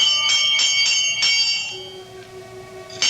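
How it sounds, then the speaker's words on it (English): A pulled door bell on an old grand house rings in a radio drama, several bright metallic strikes in quick succession that ring on and fade, then one more strike at the end, clear and close. "I reach out and pull the bell."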